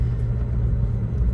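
A McLaren GT's engine gives a steady, deep rumble up close as the car rolls slowly into a dealership, a low continuous drone with no talking.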